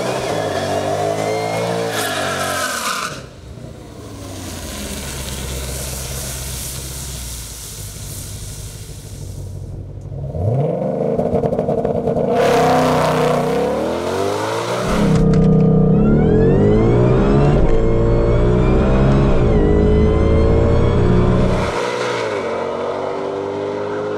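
A funny car drag racing engine revs hard close by, its roar repeatedly climbing and falling in long waves, very loud and harsh with hissing bursts between pulls, and no voices heard.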